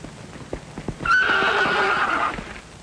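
A horse whinnies loudly and close by, a long shrill neigh trailing off, with a few soft hoof thuds and rustles before it.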